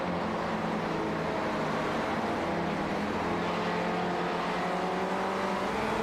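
Race cars on the Las Vegas track in an SCCA Core Premier Series race drone past in a dense, steady engine roar, loud and unbroken throughout.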